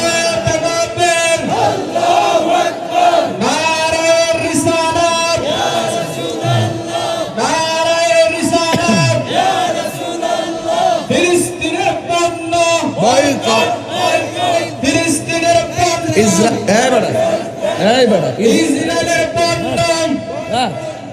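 A large crowd at an outdoor rally chants slogans together in loud, rhythmic call-and-response waves, answering a leading voice over a loudspeaker. The chanting stays dense and continuous throughout.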